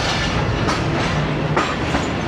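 Tezgam train rolling through the Karachi Cantt railway station yard toward the main platform: loud, steady rumble with rhythmic wheel clatter and brief rail clicks, heard close, with no talking.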